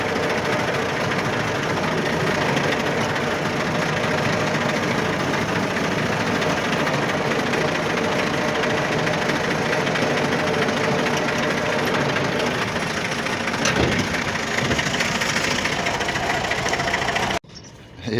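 A tractor engine runs steadily on a cold village morning. The low, chugging rumble is close and constant, with a faint knocking, and it stays unbroken for nearly the whole stretch before stopping abruptly at the end.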